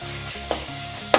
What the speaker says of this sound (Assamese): এয়া আমাৰ মছলাকণ ভাজি হৈ গৈছে